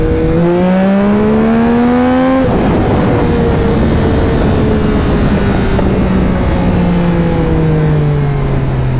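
A 2021 Yamaha MT-09 motorcycle with a flashed ECU revs loud and close, engine pitch climbing through gears, then a rough blast of wind and road roar as it rides on with a lower, steady drone.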